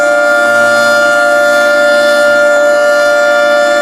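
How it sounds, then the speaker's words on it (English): A 3T22 warning siren holds a steady, piercing tone, loud and sustained throughout with a rich buzzing harmonic edge and no voices. "3T22."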